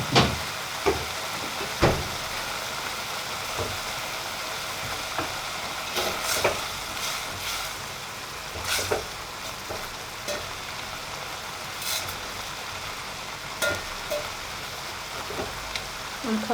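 Eggs frying with a small bit of butter in a pan: a faint, steady sizzle runs throughout, broken by occasional clicks and scrapes of stirring.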